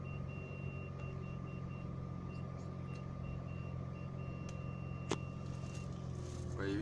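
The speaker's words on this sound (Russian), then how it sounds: "Включили заднюю передачу, включился задний видеопарктроник." A 2008–2010 Nissan GT-R in reverse gear sounds its rear parking sensor: a steady series of short electronic beeps over a low idling engine hum inside the car.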